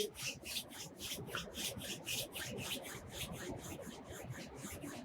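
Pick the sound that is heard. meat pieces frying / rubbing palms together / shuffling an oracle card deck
rubbing palms together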